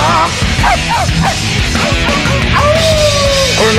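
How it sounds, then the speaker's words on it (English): A cartoon dog barks and yips in a bright, loud run of short calls over the backing music of the children's farm song Old MacDonald Had a Farm. "And on his farm he had a dog."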